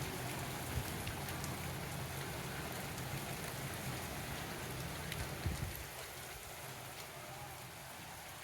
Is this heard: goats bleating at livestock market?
no